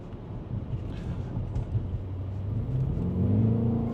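A 2025 BMW X5M Competition SUV accelerating in M1 mode, heard from inside the cabin as a low engine rumble and whir that builds into a deeper, louder rising drone toward the end, with no talk.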